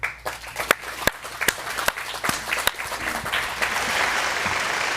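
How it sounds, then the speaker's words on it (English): Audience applause for finalists and winners of the 2021 Idaho Innovation Awards, starting with scattered individual claps that build into a fuller, sustained round of clapping. "Everyone, please join us in a final round of applause for all the finalists and winners of the 2021 Idaho"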